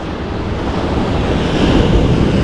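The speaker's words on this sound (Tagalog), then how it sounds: "Lakas ng alon." Strong ocean waves surge and roar loudly and continuously at a saltwater fishing spot in Australia, mixed with heavy wind buffeting the microphone.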